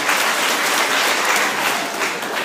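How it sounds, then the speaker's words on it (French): An audience at a VIP speech gathering in Koumassi applauds a security commander with loud, dense, continuous clapping that blurs into a thick wash of sound for the full duration. "Je voudrais qu'on l'applaudisse très fort."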